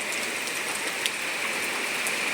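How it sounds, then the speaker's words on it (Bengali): Heavy rain pours steadily onto a flooded garden and courtyard, a dense, even hiss with occasional louder drop impacts, continuous and moderately close with no voices. "এত জোরে বৃষ্টিটা এসছে, আর বৃষ্টির ফোঁটাগুলো প্রথমবারেই কিন্তু বেশ বড় বড় সাইজের"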